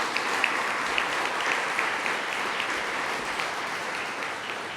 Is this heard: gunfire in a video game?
no